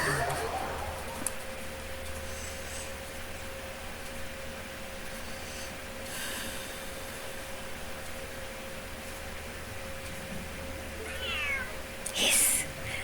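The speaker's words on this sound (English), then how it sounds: "The cat is hissing at me, Miss Rosaria!" A cat meows and hisses in the video game Genshin Impact, short cries and a sharp hiss late on, faint over a steady fan-like hum with talk in the background.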